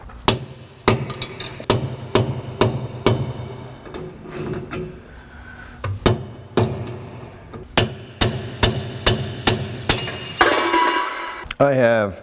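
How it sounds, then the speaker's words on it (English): A bearing race knocked out of a truck axle, heard as repeated sharp metallic hammer blows in an irregular rhythm. The strikes ring close and loud, and a brief scraping sound comes near the end. "So now I've got to knock this race out from the other direction,"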